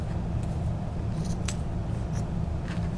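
Scissors trimming extra zippers off a fabric tablet case, a few quick, crisp snips against a low background hum.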